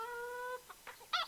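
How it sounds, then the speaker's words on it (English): Chickens in the Dota 2 video game cluck in a few short, bright calls after a brief tonal chime, quiet and close, with no speech. "What the hell are those chickens?"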